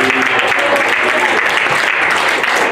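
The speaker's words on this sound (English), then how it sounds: "let's give Jesus a big clap of praise this morning" Congregation at a morning church service claps in praise of Jesus, a steady dense wash of many hands clapping throughout, with faint voices underneath.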